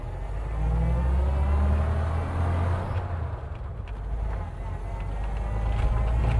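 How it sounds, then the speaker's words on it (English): A 1930 Chevrolet Huckster engine pulls away and picks up speed, a low, fairly quiet rumble that swells gently and steadily across several seconds, close by with no talk over it. "Notice the motor is not really all that noisy, and if I kind of get into it a little bit, it gets right up to speed."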